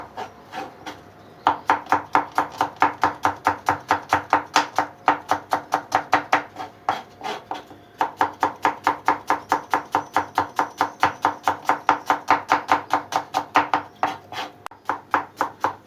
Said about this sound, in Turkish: Soğanlarımızı jülyen jülyen kesiyoruz.